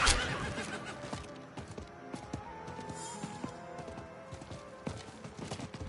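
Horse hooves clip-clopping in the Diablo 4 video game, a quick, steady run of distinct hoof strikes mixed with other game sound effects, moderately loud and close.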